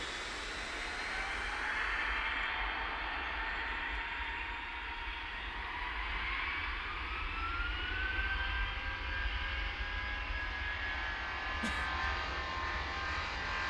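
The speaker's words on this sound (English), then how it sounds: "It doesn't sound very jet engine-y" Jet airliner engines in the air traffic control game Tower! Simulator 3, heard as a steady distant roar with a slowly rising whine, continuous and even throughout, as if from a control tower far from the runway.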